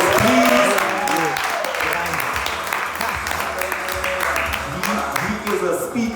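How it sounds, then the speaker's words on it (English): An audience at a youth business symposium applauds steadily, a loud dense wash of clapping, while a voice talks over it. "Let's give him a round of applause, please."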